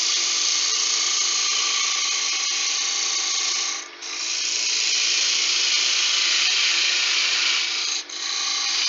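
A woodturning tool cuts into a spinning wooden candlestick blank on a lathe, producing a loud, continuous scraping hiss with two brief dips where the tool lifts off the wood.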